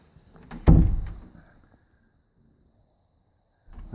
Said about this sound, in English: The doors seem to close okay